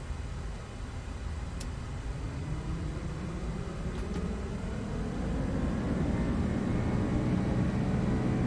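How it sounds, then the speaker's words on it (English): Toliss Airbus A340 jet in X-Plane 12 taking off from runway 13 left at San Antonio, a steady broadband engine roar that builds gradually and swells louder toward the end. "we are cleared for takeoff"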